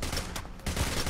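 Sniper fire in the video game Payday: The Heist rings out as a brief burst of loud, close gunshots with a short gap between volleys.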